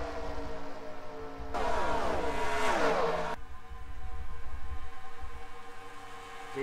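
Race cars in a NASCAR racing video game rumble down pit road, a steady engine drone that swells into a louder, brighter pass in the middle before settling back to a hum.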